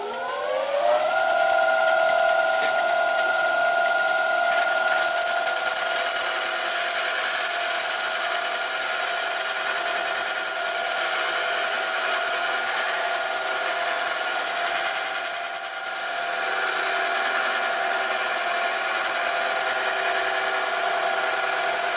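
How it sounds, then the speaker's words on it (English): A carbide insert bores out a hardened steel collet chuck on a lathe, giving a continuous high, ringing metallic whine with tones that shift as the cut changes, loud and close for the whole stretch, with no talking. "I've decided to try and bore it out with a carbide insert."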